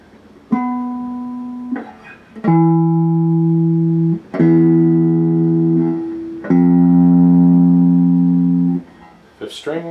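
A Gibson Les Paul Standard electric guitar from 2021 sounds a series of sustained single strings or chords, each ringing out clean and loud for one to two seconds before being cut off, with brief pick and string noises in between.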